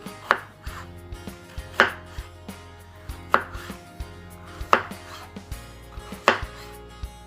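A knife cuts through a cantaloupe on a board in five crisp, evenly spaced chops about one and a half seconds apart, each a sharp thud close to the microphone with quiet handling noise between.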